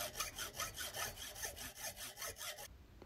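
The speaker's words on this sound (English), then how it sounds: "sawing off the end with my hacksaw, being careful to saw just above the line" Hacksaw cutting off the end of a Kawasaki Z1 carburetor body clamped in a vise, with about ten even back-and-forth rasping strokes at close range before stopping.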